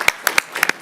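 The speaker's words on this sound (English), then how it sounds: "Please give them a huge round of applause." A few scattered, sparse hand claps from a city council meeting audience in Reno, a handful of separate sharp claps rather than a full ovation.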